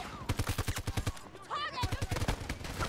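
Rapid automatic fire from an RM68 rifle in Battlefield 2042, close bursts of sharp evenly spaced shots, a short pause with a player's voice, then another fast burst.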